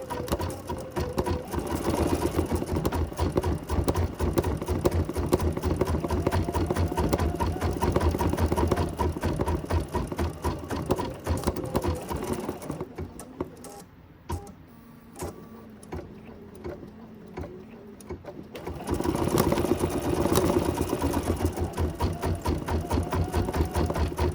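An embroidery machine hums with steady rapid stitching, continuous and close, pausing briefly to a quieter mechanical whir before resuming at full speed.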